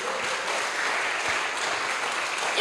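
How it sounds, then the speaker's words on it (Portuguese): A church congregation claps steadily and densely throughout, a sustained wash of applause that swells slightly at the very end. "Quantos podem aplaudir o nome do Senhor?"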